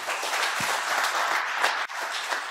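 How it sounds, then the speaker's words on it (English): A crowd at the First Canoe Summit during the Festival of Pacific Arts in Guam gives the organizers a round of applause, steady and full with a brief dip near the end. "I want to ask you to join me in another round of applause for all of them"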